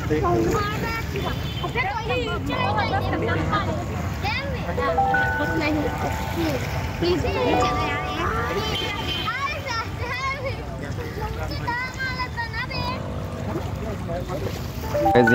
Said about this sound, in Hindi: देख सकते हैं लहरें कितनी तेज़ी से उठ रही हैं